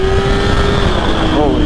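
A Yamaha R6 sport bike's engine drones steadily up close at high revs, a sustained tone holding then shifting slightly as it pulls, with wind noise around it.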